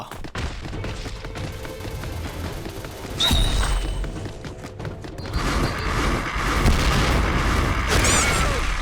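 Heavy booms and crashing blasts burst through a video game battle in dinosaur mode, rising over a busy, clattering soundscape. The loudest impacts come in the middle and near the end.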